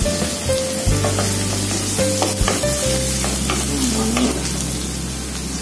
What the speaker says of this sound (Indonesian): Ini kita tumis sampai dia berubah warna emas,